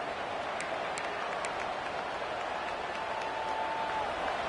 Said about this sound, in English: And the crowd really making some noise now, trying to help out this defense to get this stop near the goal line.